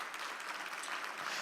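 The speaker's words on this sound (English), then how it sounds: "Let's give them a round of applause." Audience applause at a sports awards show: dense, steady clapping from a crowd fills the short moment, fairly loud and even throughout.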